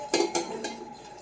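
A spoon stirs nannari sharbat in a glass or vessel, giving three or four quick metallic clinks close by, with no talking.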